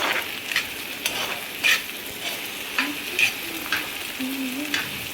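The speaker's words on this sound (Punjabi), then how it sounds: "ਹੁਣ ਆਪਾਂ ਇਹਦੇ ਵਿੱਚ ਪਾ ਦੇਣੇ ਹਰੀ ਮਿਰਚ ਇਹਨੂੰ ਹੁਣ ਆਪਾਂ ਹਿਲਾ ਦਿੰਨੇ" Bitter gourd with green chilies is stirred in a hot frying pan, with a constant close sizzle and regular scraping strokes of the spatula about once a second, with no talk.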